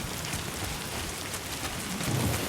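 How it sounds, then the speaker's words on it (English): Timefall rain pours in Death Stranding 2, a dense, steady rain hiss with a low rumble swelling near the end, continuous and without speech. "Well, the rain is hazardous to our stuff."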